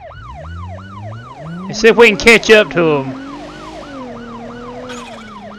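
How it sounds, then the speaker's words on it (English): Police car siren in the BeamNG driving game, wailing in steady rising-and-falling sweeps throughout, briefly covered by a loud burst of other sounds mid-clip, with someone talking over it. "siren"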